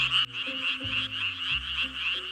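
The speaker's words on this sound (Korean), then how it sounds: "개구리들의 이 멋진 울음을 언제까지 들을 수 있을지 모르겠습니다." Frogs croak in a Korean forest, a loud, close chorus of continuous pulsing calls with lower croaks layered beneath, steady throughout with no voices.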